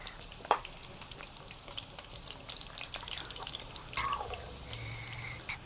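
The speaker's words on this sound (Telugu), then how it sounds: "ఉసిరికాయలు మళ్ళీ ఒకసారి తిప్పుకోవాలి." Amla gooseberries fry in a pan for a village-style pickle, with a faint, soft sizzle and occasional sharp clicks from stirring. The sound is quiet throughout, with no voices.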